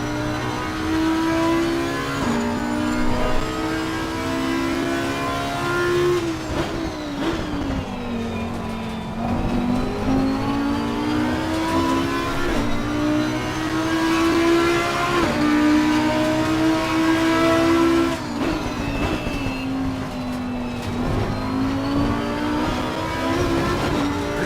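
A BMW M4 GT3 race car in Assetto Corsa Competizione at Mount Panorama: a loud, close engine drone that climbs and drops through repeated gear changes and corner braking, continuous throughout.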